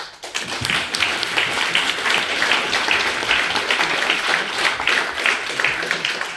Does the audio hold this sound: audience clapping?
yes